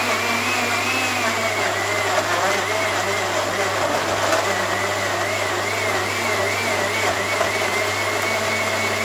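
Sharp SA-FP1001BW personal blender blending tomatoes, a loud steady motor whine with a shifting pitch as the contents churn, running continuously and close by.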